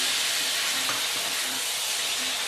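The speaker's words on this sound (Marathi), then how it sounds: "हे नारळाचं पाणी घालून छान हलवून घ्यायचं" Coconut water is poured over rice grits cooking in a pan and stirred, giving a steady loud hissing sizzle with faint soft scraping underneath and no speech.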